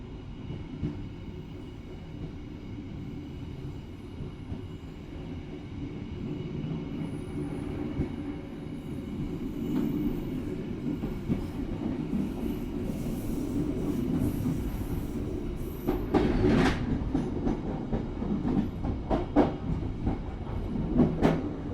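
A KA Motis passenger train runs on rails, a continuous rumbling roll from inside the moving carriage that grows louder, with squeals and clacks toward the end.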